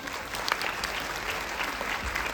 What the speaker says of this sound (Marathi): एकदा जोरदार टाळ्या सरितासाठी